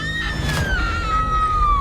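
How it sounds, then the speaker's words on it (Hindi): A woman screams loudly in one long, sustained cry that slowly falls in pitch over a low rumbling background, used as a horror story sound effect. "कुछ देर बाद उसे उसकी बीवी की एक चीख"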